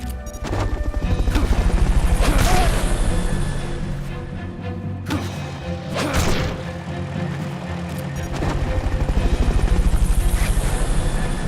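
Loud, continuous rotor thumping and engine drone of a Fulton recovery helicopter in Metal Gear Solid Peace Walker HD, swelling and fading, broken by a couple of sharp crashing impacts.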